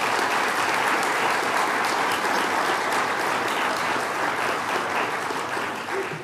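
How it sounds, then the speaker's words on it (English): An audience at a governor's event at SUNY New Paltz breaks into sustained applause for a senator, dense steady clapping from many hands throughout, fading slightly at the end. "Let's give him a round of applause."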